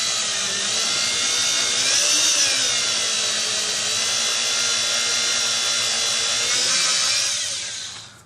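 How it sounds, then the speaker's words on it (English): A power drill driving a screw into wood during countertop installation whines steadily and loudly for several seconds, its pitch shifting slightly as it bites in, then winds down. "Every so often clean the chips from the drill bit."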